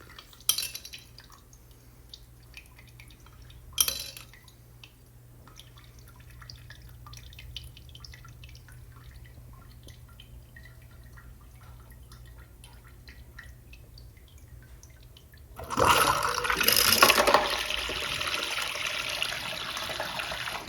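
A prototype toilet flushes dense marbles. Faint drips and a couple of sharp clinks sound in a quiet room, then a short, loud burst of rushing water near the end.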